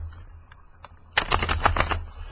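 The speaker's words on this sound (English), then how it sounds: "I'm trying not to be so loud with shuffling the cards." Large tarot cards being shuffled, a quiet stretch of faint taps giving way to a loud, dense burst of rapid riffling clatter close to the listener.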